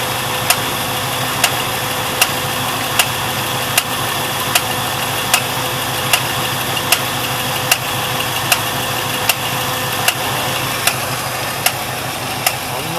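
A 1973 Pontiac Trans Am 455 V8 runs at a steady idle with an abnormal noise, a sharp tick repeating about once a second over the constant engine drone, heard up close.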